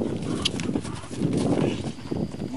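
Horse hooves thud irregularly on an arena surface as the horse approaches a show-jumping fence during training, the beats loud and close against outdoor background noise.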